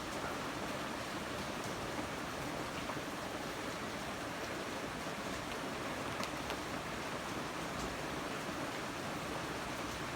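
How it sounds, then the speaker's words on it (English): Steady rain falling outdoors beside a flooding creek that has overflowed into pastures, a dense continuous hiss of rain and rushing water held at an even level throughout, with no voices. "it's raining off and on"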